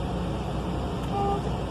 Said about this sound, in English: My city horn and air horn are both working properly.